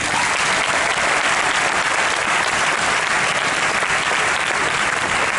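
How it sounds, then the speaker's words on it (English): A premiere audience claps for festival volunteers, and the loud, dense applause holds steady from start to finish with no pauses. "so I'm going to clap on this one too."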